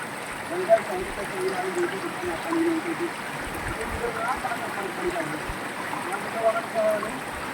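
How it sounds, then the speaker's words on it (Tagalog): The Ilaya River flows in a continuous rushing babble, close and moderately loud, while a person talks faintly now and then. "Ilaya River."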